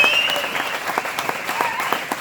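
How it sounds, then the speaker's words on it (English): An audience applauds the sound man at a cowboy poetry show, a sustained round of clapping with a few sharper individual claps standing out, while a faint tone lingers briefly at the start. "How about we give a big round of applause for Chris Dixon?"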